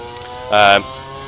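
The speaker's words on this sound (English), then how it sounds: "Obviously this is a proper Formula 1 car." A Formula 1 car engine in the F1 2013 racing game at Monza, heard from the cockpit, gives one short loud rev burst of about a third of a second over a steady harmonic engine drone.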